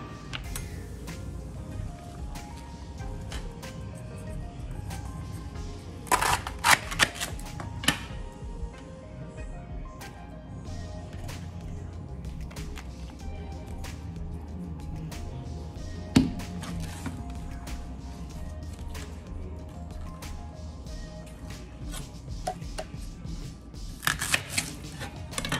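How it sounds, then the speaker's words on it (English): Knife chopping through celery stalk and leeks, scattered sharp cuts and clusters of clicks against a steady low background, fairly quiet and close, with no talking. "I just cut up the rest of my giant leeks and regular size leeks"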